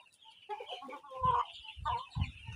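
An adult Bahama rooster clucks in a quick run of short, close calls, with a few low bursts mixed in and no speech.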